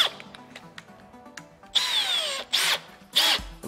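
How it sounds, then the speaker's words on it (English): A cordless drill fitted with a 44mm hole saw and arbor bores into a door, its whine rising in several loud, close bursts separated by brief pauses. "So I commence drilling."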